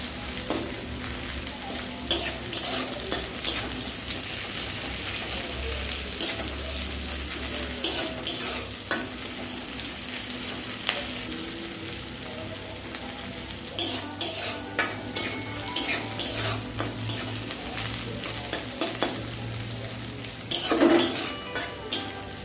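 Onions and a leafy spice paste frying in a pan for a Sunday chicken dish, with continuous close sizzling, steady stirring and repeated sharp spatula knocks against the pan.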